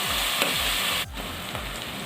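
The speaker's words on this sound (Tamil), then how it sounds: "அது மாதிரி கண்ணாடி பதத்துக்கு வர அளவுக்கு வெங்காயத்தை நல்லா நம்ம வதக்கிக்கலாம்" Onions sizzle steadily in a pan with a soft hiss, broken by a few scraping stirs, and no one speaks.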